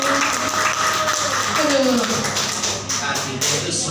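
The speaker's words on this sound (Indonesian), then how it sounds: "Tepuk tangan dulu." A small group applauds during a stroke patient's therapy session, steady tapping claps filling four seconds while a voice talks over them.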